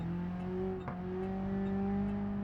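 A Peugeot 206 GTI engine in the BeamNG driving game holds a steady, droning high rev, rising slightly in pitch as it accelerates, close and continuous with a brief dip near the start.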